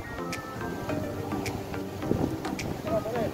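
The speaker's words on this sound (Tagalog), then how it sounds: "Ang lakas ng hangin pala dito, no?" Strong wind buffets an outdoor microphone during a road trip stop, producing low rumbling gusts throughout, with faint voices and light rustling in the background.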